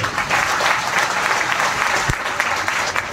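Steady, dense clapping fills a room at a business gathering, continuous and fairly loud, with a muffled crowd murmur underneath.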